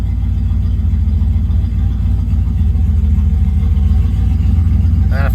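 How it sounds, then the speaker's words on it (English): A car engine runs on a standalone EFI setup, idling steadily at around 800 to 900 RPM with a loud, even low rumble and a brief voice at the end. "we're idling it right at about our target"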